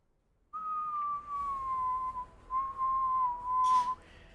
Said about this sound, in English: you guys kind of hear a whistle